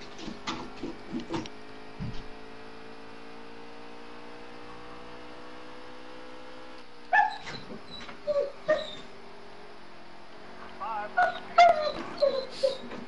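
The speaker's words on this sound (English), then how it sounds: "Sorry if y'all can hear my dog in the background." A dog in the background yips and whimpers in short bursts, clustered toward the end, over a steady mechanical hum.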